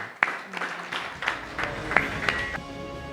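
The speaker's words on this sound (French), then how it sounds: "On les applaudit encore très fort." Scattered applause from a small audience at a French singing competition show, uneven claps with a few louder hits standing out, moderately close and lively, no speech over it.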